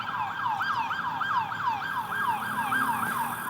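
A wailing emergency siren sweeping up and down in a fast, repeating yelp, moderately loud and continuous.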